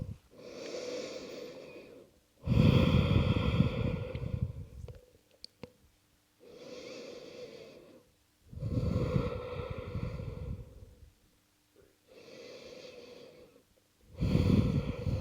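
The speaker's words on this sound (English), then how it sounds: "Take a few deep breaths." Slow, deep breaths during a strong vinyasa yoga flow, close and loud: long inhales and exhales in about five rounds with short quiet gaps between them, and no talking.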